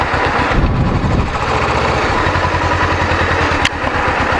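A small dirt bike engine idles close by near Silva, North Carolina, a steady loud putter with an even pulsing rhythm that holds throughout, broken only by a brief click near the end.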